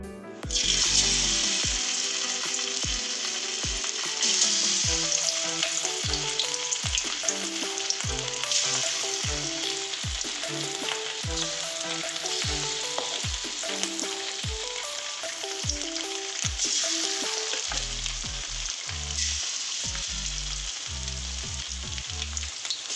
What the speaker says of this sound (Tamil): எண்ணெய் காய்ஞ்சதுமே நம்ம மசாலா தடவி வச்ச மீனெல்லாம் எடுத்து இதில் போட்டுக்கலாம்